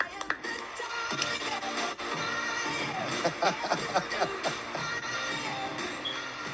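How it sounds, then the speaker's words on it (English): An audience applauds and cheers for a woman named Sarah, a dense wash of clapping with scattered shouts and chatter, fairly close and sustained throughout. "Give her a round of applause, everybody."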